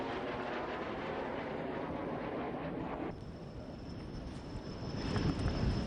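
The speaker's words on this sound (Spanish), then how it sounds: "Ahí van los Tornado y los cazas de esa generación" Tornado fighter jets flying overhead, a steady roaring rumble that holds throughout, shifts in tone midway and swells again toward the end.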